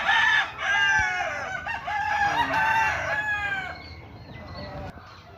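An imported rooster crows loudly and long while imported gamefowl chickens cluck and squawk around it, a busy close-up barnyard chorus with no talking.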